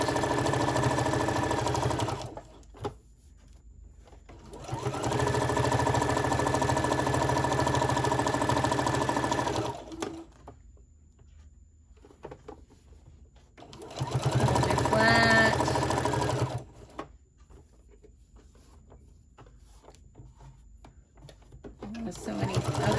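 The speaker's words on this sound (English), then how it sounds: "I'm going to sew all the way down each side and on the other strap" Sewing machine stitching down the sides and strap of a fabric tote bag, running in several steady bursts of a few seconds each with quiet pauses between, close and fairly loud.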